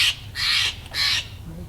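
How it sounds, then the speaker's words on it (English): A crow caws three times in quick succession, harsh and fairly close, over a low outdoor background near Lake Tahoe, with no talking during the calls. "Is a bird talking to you?"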